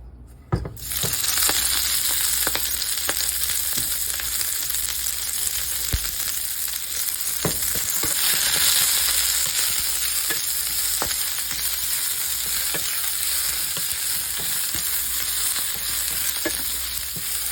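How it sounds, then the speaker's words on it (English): Chopped walking stick kale sautéing in a hot pan, a steady close sizzle running throughout with scattered clicks and stirring scrapes, no talking. "I'm gonna chop this kale up and saute it really quickly"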